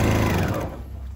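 A sewing machine stitches through quilted placemat fabric with a pin caught under the needle. It makes a close, steady rapid whir that eases slightly toward the end of the short stretch.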